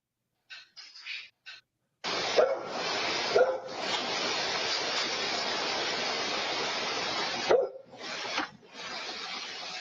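Dogs bark in a video played back through a speaker, the sound coming through muffled and noisy in a continuous rough stretch after brief opening bursts.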